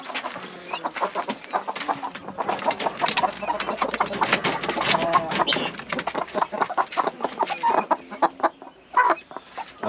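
Broody hens and other chickens cluck loudly and continuously up close in a hobby coop in Taşköprü, Kastamonu, in cold weather, their calls overlapping in busy bursts with no talking.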